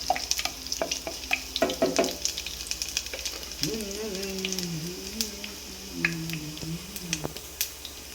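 Garlic hits hot oil with ginger in a pan for a Malabar fish curry, giving bursts of crackling sizzle and sharp pops up front, then a softer steady fry under a brief voice.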